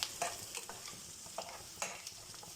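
Onions, curry leaves and dried chillies sautéing in a pan, a faint steady sizzle punctuated by a few soft stirring scrapes, close and quiet without speech.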